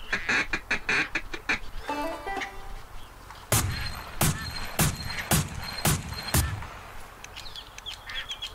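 Ducks quack in the Duck Dynasty hunting video game, a short run of calls followed by several loud, sharp bursts and more scattered game sounds, with no talking.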